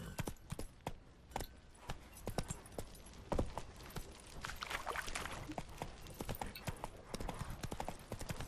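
Horse hooves trot in The Witcher 3 with a steady, close, rhythmic clip-clop that keeps going throughout over a faint ambient bed.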